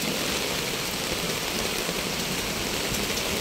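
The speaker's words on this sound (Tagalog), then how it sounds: "Grabe ang lakas ng ulan." Heavy rain pours steadily during a thunderstorm in a rural mountain area, a dense, loud, continuous hiss of drops drumming on surfaces with no pauses.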